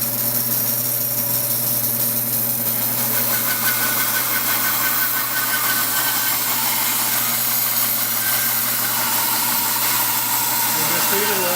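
A bandsaw runs idle in a workshop before cutting MDF, a steady machine hum with a low, even drone held at constant level throughout, with no cutting and no voices.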